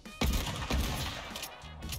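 Two loud gunshot bursts crack in quick succession in a first-person shooter match, then trail off into a short rumbling tail.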